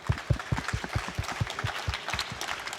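Small audience at a music-production talk claps for Jaycen Joshua, a brief round of close, uneven hand claps with a distinct rhythmic pattern and little else.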